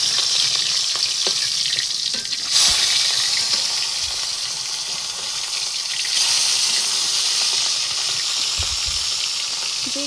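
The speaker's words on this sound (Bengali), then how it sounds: "এভাবে একটা একটা করে মাছগুলো ভেজে নিব।" Fish pieces frying in hot oil in a pan in a home kitchen, a steady loud sizzle throughout with occasional bursts of spatter and light clatter, no talking.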